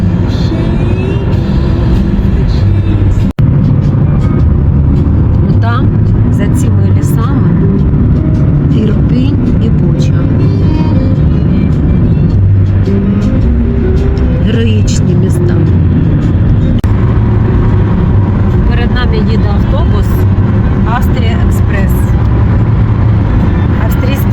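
A car drives along a road through Zhytomyr region in Ukraine, a constant loud engine and tyre rumble from inside the vehicle with a brief knock early on, while a person talks over it.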